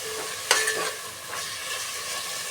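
Tomatoes and khichdi ingredients are stirred in a pan over a medium flame, giving a brief scraping clatter followed by a soft sizzle, close and alone with no talk.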